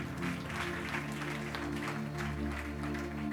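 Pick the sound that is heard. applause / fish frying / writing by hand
applause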